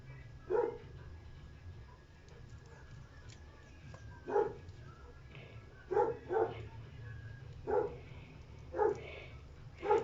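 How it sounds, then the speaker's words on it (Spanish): A dog barks in short sharp bursts, about seven or eight spaced barks, at moderate distance over a steady low indoor hum while someone makes a Christmas cup holder craft, with no talking. "mi perro se antoja de ladrar cuando estoy grabando"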